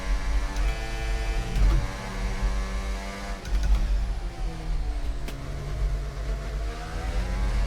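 Formula 1 car engine in the F1 24 racing game, driven at Abu Dhabi in career mode, holding a steady high-pitched drone that shifts and swells with RPM changes, continuous and loud, with no talk over it.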